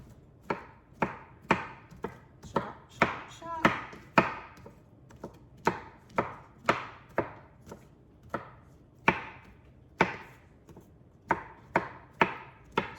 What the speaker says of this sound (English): we're gonna grab a knife, and we're just gonna chop them up